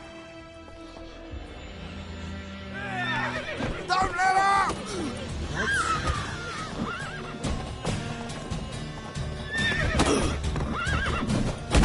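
A horse whinnies repeatedly amid clopping hooves and busy action sounds in the video game The Witcher 3, while a voice shouts over the commotion.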